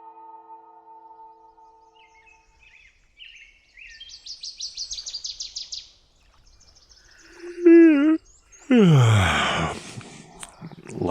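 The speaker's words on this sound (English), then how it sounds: "At least we have some birds this morning." Bright morning chirps and warbling calls of birds sound in short bursts, with a low hum early on and a louder sweeping sound near the end.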